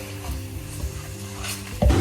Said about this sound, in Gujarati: અને સાથે સાથે પ્રીત તળતો જાય છે, જેથી ગરમે ગરમ રહે અને ખાવાની મજા આવે.